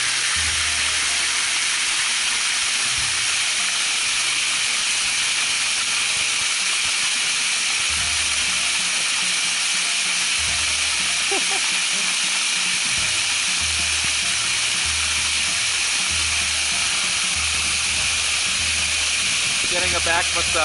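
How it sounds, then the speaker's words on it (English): Broadband rushing hiss of a waterfall pouring onto hikers on the John Muir Trail, a steady loud roar with low thumps from splashing and handling throughout. "There goes Richard into the waterfall."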